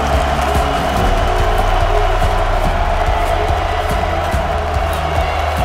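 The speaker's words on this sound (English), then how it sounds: "Kabe, the crowd chants, ready to see if he can show up and carry this team" Arena crowd chanting and cheering at a League of Legends EU LCS esports match in Copenhagen, a loud, steady wall of massed voices that holds throughout with no break.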